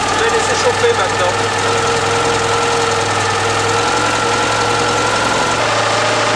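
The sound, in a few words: car engine warming up after ignition timing adjustment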